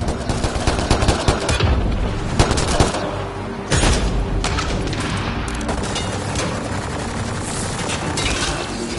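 Grenade blasts and sustained gunfire in the sci-fi shooter Mass Effect Andromeda, a dense loud barrage of rapid shots with heavier booms punching through throughout.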